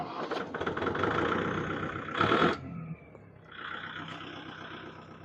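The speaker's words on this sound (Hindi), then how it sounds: "अभी ये ट्रैक्टर स्टार्ट है।" A tractor engine runs at a fairly low level, with a steady mechanical rumble, a brief louder burst partway through and a quieter hum afterward.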